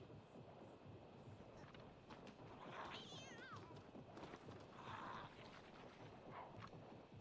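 A cat in The Sims 2 gives a couple of short meows, faint against steady background noise.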